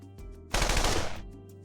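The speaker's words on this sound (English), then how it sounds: "Did you not see my gunshots?" A short, loud burst of rapid machine gun fire in a video game played by a livestreamer, lasting about two-thirds of a second and standing out alone against quiet background music.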